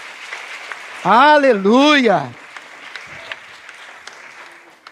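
Congregation applause during a church sermon, a steady patter of clapping under a loud sung exclamation from a man at the front.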